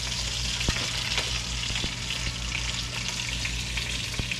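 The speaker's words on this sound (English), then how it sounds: "we're going to take the chicken and put it on the lightly greased pan" Breaded parmesan chicken pieces fry in a lightly greased pan, giving a steady close sizzle with scattered sharp pops and crackles and no talk over it.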